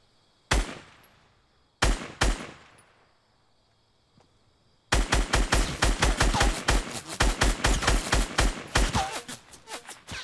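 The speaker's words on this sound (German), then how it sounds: "mit welcher Waffe schießt der denn?" Gunfire from weapons in the video game Fortnite: a few isolated, well-spaced shots with ringing tails, then a rapid, sustained burst of closely spaced shots, loud and near.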